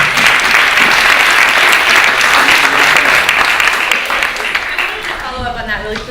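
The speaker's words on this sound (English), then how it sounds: "can we just give a round of applause for Art Pride?" An audience at a panel discussion on creative placemaking claps for Art Pride, a loud, sustained burst of many hands that gradually thins and fades toward the end, with a voice faintly underneath.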